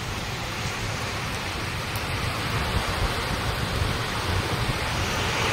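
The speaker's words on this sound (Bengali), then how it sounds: "প্রচন্ড জোরে ঝড় বৃষ্টি হচ্ছে।" Heavy storm rain pours outdoors as a dense, constant hiss and roar that stays even throughout, with no voices.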